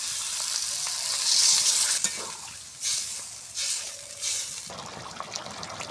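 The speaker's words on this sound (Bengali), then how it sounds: "কষা হয়ে গেছে এবারে জলটা দিয়ে দেবো" Water is poured into a frying cauliflower and potato curry in a pan, a loud burst of hissing sizzle followed by stirring scrapes and bubbling surges that gradually settle.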